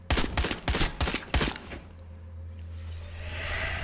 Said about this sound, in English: That's a lot of bullets.